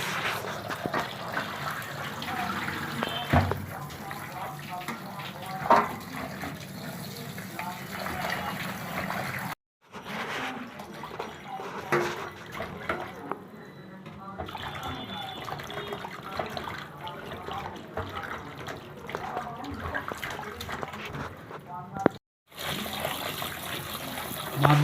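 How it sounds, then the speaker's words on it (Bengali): Cut koi fish being washed under running water, a steady splashing tap flow with handling and trickles, brief gaps, and a voice talking at times over the water. "কাটা মাছগুলো এখন ধোয়া হচ্ছে।"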